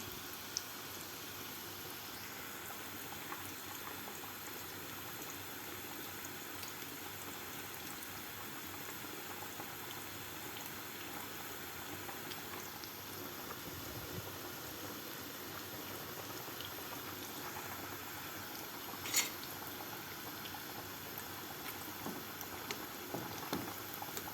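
Stuffed kadayif pastry fries in oil over medium heat, giving a soft, continuous bubbling sizzle that stays even and quiet throughout, with occasional small pops.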